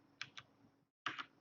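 Computer keyboard keys are struck a few times in quick, crisp clicks, a pair of taps followed by a brief pause and two more, close and quiet.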